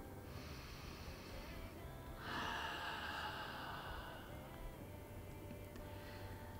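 Slow, audible breaths while a shoulder is pressed into a massage ball against a wall: a long airy exhale sweeps through the middle, with quieter inhales before and after, close and alone.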